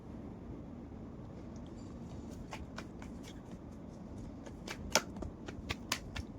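Tarot cards are shuffled by hand. Soft, rapid riffling sits over a low background hiss, then grows into denser, crisper bursts of card flicks toward the end.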